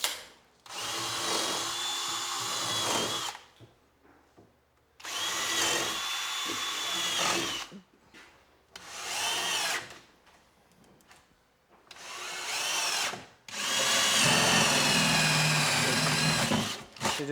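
Power drill whines in five separate bursts of a few seconds each, separated by short pauses, close and steady as it bores holes through wood for a jigsaw blade during kitchen work.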